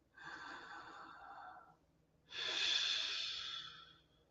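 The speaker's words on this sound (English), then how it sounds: "I just sit back in my chair, close my eyes, and do some really deep breathing." Two slow, deep breaths in a quiet room, a long airy inhale followed after a short pause by a stronger, louder exhale, close to the listener with no talking.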